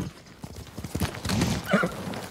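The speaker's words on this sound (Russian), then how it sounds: "Это не мой конь. Давайте зовем своего." Horse hooves clatter at a gallop in the video game Ghost of Tsushima, a rapid clip-clop rhythm building in loudness, with a brief whinny-like cry near the end and no speech.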